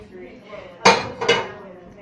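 Metal pan clanks twice in quick succession as it is handled while being filled with macaroni and cheese in béchamel sauce, two sharp knocks close by in a quiet home kitchen.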